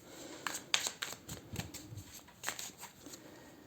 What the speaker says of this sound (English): I'm just gonna give them this little extra shuffle.